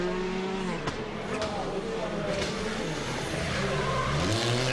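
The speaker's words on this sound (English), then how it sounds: "As expected, plenty of sliding on those snow tyres around these sweeping hairpins at either end of the circuit" A rally car on snow tyres slides around hairpins on the Monte-Carlo Rally, its engine revving and changing pitch under continuous commentary, with tyre scrub as it drifts through the bends.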